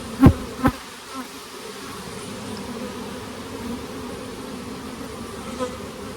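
Honeybees hum in a steady, moderate drone during an inspection of a friend's hives. A couple of sharp knocks come at the start, and the buzzing carries on alone with no speech.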